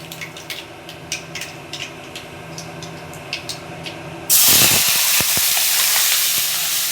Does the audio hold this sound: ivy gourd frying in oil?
yes